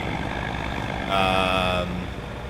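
Trucks from a Farming Simulator 25 mod play an engine rumble with a brief, loud, steady tonal beep or horn lasting under a second in the middle.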